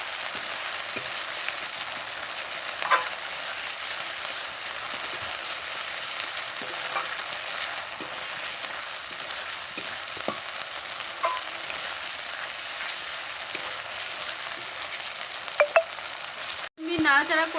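Mirka fish curry with chopped tomato frying and being stirred in a pan, cooked village-style with pumpkin bori: a continuous sizzle broken by scattered scrapes and clinks of the spoon, and a sharp knock near the end.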